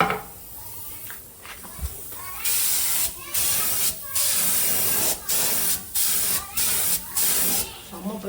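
High-pressure sandblasting of 1972 Jawa motorcycle parts: loud, harsh hissing blasts come in a string of bursts split by short pauses, with people talking around them.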